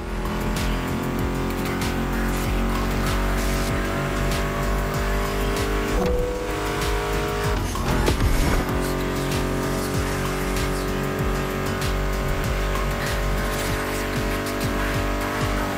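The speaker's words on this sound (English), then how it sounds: "Meshes well with the sound of the engines, you feel me?" Muscle car engines in The Crew Motorfest video game, roaring and revving with tire squeal and skids under music, loud and sustained with a sharp shift midway.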